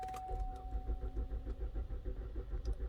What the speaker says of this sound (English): A little long on the cranking.